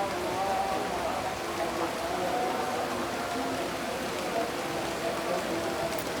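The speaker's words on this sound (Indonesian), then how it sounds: "Tiap hari di rumah aku sekarang tuh selalu hujan loh teman-teman." Steady rain falls outside a home garden where mustard greens are grown, making a continuous, even hiss of drops on surfaces that holds at moderate loudness for the whole stretch.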